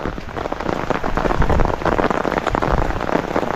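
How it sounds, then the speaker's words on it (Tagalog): Heavy afternoon rain pours steadily onto the roof of a small hut, a dense, loud, continuous patter with no voices. "Kada hapon, umuulan na."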